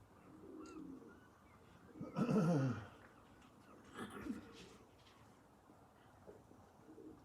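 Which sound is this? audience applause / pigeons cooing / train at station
pigeons cooing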